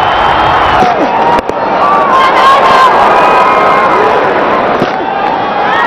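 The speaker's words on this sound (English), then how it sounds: "Once again bringing the crowd to their feet." A cricket stadium crowd at an India versus England match roars and cheers after a drive by Virat Kohli. The dense, loud noise of the crowd holds steady throughout, with a sharp bang near the start and a commentator speaking over it.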